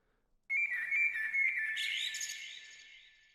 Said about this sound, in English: that sounds like some sort of like synthetic robot bird